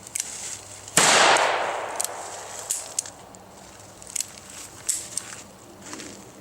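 A Ruger New Vaquero revolver loaded with cowboy action ammo fires one loud, close shot, followed by several smaller sharp cracks and clicks spread across the following seconds.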